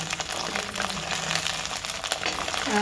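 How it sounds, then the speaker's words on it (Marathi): Salted brinjal pieces fry in a pan until they turn reddish, giving a dense, close sizzle with a few soft stirring knocks throughout. "अशी वांगी आता आपण परतून घेणार आहोत"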